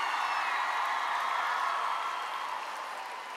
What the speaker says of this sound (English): A round of applause to all the participating countries.